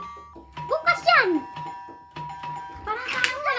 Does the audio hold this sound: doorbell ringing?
yes